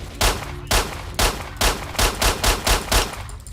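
Gunfire in the video game STALKER: Shadow of Chernobyl, a loud, close burst of about nine heavy shots in quick, slightly uneven rhythm, booming and echoing with no talk over it.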